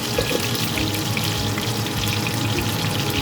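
Potatoes fry in oil for potol chingri, giving a steady close bubbling sizzle with a wet, crackling texture that holds constant throughout with no talking.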